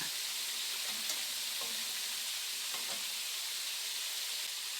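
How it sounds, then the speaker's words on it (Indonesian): Mackerel frying in hot oil in a wok gives a steady, close crackling sizzle with irregular spitting pops of splattering oil throughout. "kalau menggoreng ikan itu agak bahaya, minyak banyak terciprat keluar"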